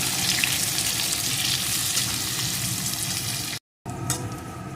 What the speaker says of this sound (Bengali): এখন পেঁয়াজ কুচিটাকে লাল লাল করে ভেজে নেবো